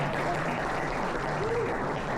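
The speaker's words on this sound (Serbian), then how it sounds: "Evo, aplauze za Lakija." Steady audience applause fills a hall at an automotive forum awards ceremony, a continuous moderate wash of clapping without pause.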